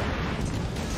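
A torpedo blast sinks an enemy battleship in the World of Warships naval game, a dense, loud, sustained rumbling explosion filling the whole moment with no talking.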